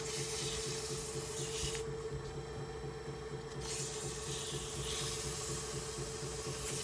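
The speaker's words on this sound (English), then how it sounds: "I'm just going to wet sand on it a little bit with 600" Wet sanding an old duck call barrel with 600-grit paper, heard as a steady, close abrasive rasp that continues without pause from start to end.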